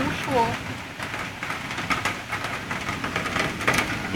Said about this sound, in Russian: Ну, ливень, да?